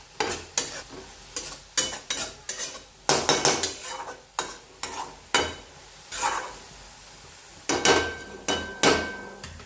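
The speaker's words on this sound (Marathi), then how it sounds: "भाजी पण परत एकदा एकत्र करून घेऊया सुकट मसाले मीठ" A spoon repeatedly clanks and scrapes against a pan while stirring a dry curry of spring onions and dried fish, sharp metallic strokes in uneven bursts over a light sizzle, with no speech.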